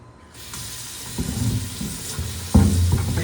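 Water pours out of a pot of salal berries in a steady splashing stream, growing louder and heavier toward the end.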